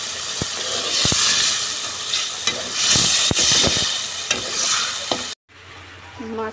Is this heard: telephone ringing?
no